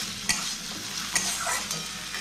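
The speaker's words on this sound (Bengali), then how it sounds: "এবার দিয়ে দেবো পেঁয়াজ কুচি, দিয়ে দেবো কাঁচা লঙ্কা কুচি, 1 মিনিট মতো ভালো মতো ভেজে নেব" Chopped onion and green chili fry in a pan for a potato fingers starter, a dense close sizzle broken by a few sharp scraping stirs, with no talking.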